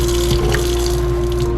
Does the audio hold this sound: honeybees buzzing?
no